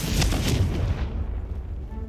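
A Confringo blast spell detonates in Hogwarts Legacy, a loud close boom with a crackling burst that rolls off into a fading rumble within about two seconds.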